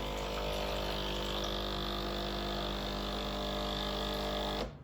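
A Breville Barista Express BES870 espresso machine runs its pump as the hot water tap dispenses, a loud steady mechanical hum with the sound of flowing water that cuts off abruptly near the end.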